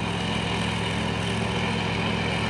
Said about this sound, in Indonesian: lagi satu unit dump truk Fuso nih ya.